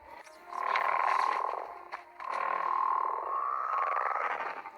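A Plateosaurus call from the Jurassic World Alive video game sounds out as a frog-like croaking drone, delivered in two long, loud tonal bursts with a brief gap between them and no talk over it.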